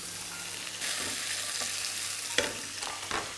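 Split green chilies hit hot oil with grated carrots in a pan for a spiced Indian stir fry, giving a steady close sizzle broken by a few scraping stirs of a spoon against the pan.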